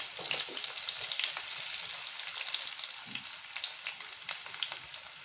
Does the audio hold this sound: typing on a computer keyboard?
no